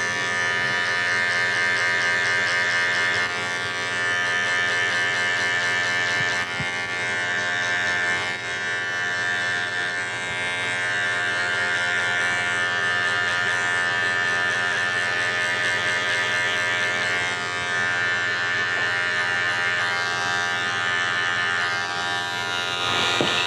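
Electric hair clipper cutting hair over a comb during a fade haircut at a barbershop, a steady continuous buzz that runs unbroken from start to finish at close range, with small shifts as the blade moves through hair.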